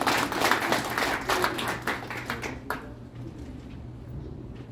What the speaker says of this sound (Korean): 천문동원의 격려의 박수 한번 내주시면 감사하겠습니다